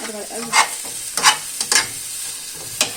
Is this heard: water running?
no